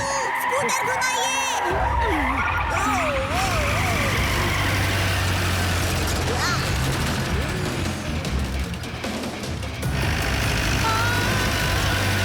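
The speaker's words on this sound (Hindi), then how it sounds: "चाचू स्कूटर घुमाइए।" A cartoon scooter engine runs with a steady low rumble for several seconds, mixed under animated voices and music.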